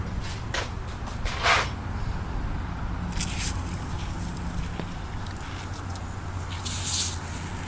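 Cosmoline sealant sprayed from a can toward a car's wheel wells, heard as short hissing bursts, one near the start and another near the end, over a low steady background hum.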